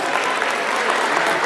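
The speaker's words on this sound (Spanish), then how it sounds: "Un aplauso para él" A crowd in Orocovis claps steadily in a dense, even burst of applause for a sports journalist, close and fairly loud throughout.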